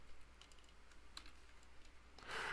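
Several light computer keyboard keystrokes tap irregularly, ending in a quick cluster of presses for a Control Shift T shortcut, fairly close and alone.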